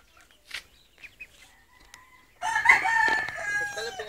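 Fighting cocks crow in a rooster yard, with a few brief clucks and calls before a loud, raspy crow breaks out and carries on close to the listener.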